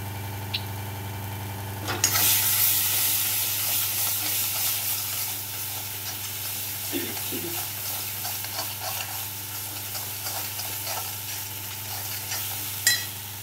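Masala fries in a kadhai with a dense, continuous sizzle that swells after a brief quiet start, and occasional scrapes from stirring ring out over the hiss.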